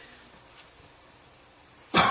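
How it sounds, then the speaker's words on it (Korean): A pastor preaching at a church coughs once, a single loud, close cough that bursts out abruptly after a near-silent pause. "이 설교하려고 그러니까 기침이 자꾸 나네."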